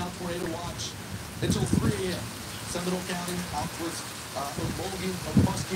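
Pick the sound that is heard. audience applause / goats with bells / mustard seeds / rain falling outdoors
rain falling outdoors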